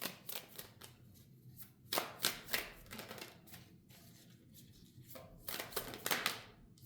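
Tarot cards being shuffled and dealt out, giving repeated bursts of riffling and slapping card sounds with short pauses between them, close and fairly quiet, with no talking.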